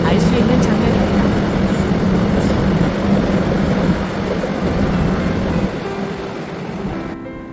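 A commuter train at a platform slowly starts to move, its low rumble and rattling wheels steady and fairly close, fading a little near the end under a voice speaking.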